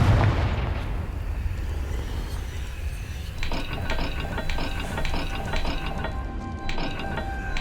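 A blasting-spell explosion in the video game Hogwarts Legacy, a deep rumbling burst that rolls out at the start, followed by a clanking of mechanical gears and ratcheting dials turning for several seconds.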